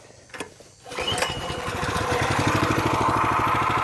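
The gas engine on a County Line 25-ton log splitter starts while hot after a brief pull, catching within a second and settling into a steady, loud, close chugging idle.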